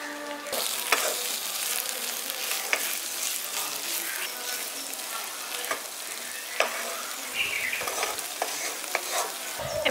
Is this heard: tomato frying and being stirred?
yes